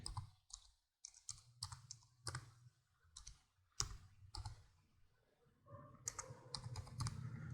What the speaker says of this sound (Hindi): जहाँ पे हम वैल्यू टाइप करेंगे